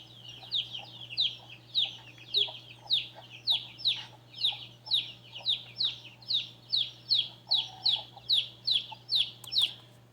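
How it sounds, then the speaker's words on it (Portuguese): Small chicks peep in quick, bright bursts, a regular run of high chirps repeating about twice a second, fairly close and faint over a low steady hum. "é o som dos pintinhos"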